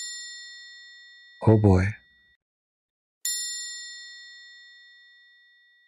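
A metallic bell rings out with a clear, bright tone and fades slowly, then is struck again and decays over several seconds; someone briefly speaks in the quiet gap between the rings.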